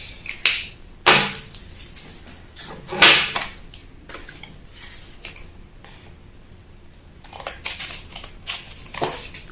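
Scissors cut through a cardboard sleeve pattern with sharp, crisp snips in irregular clusters, close and fairly loud, separated by quieter pauses.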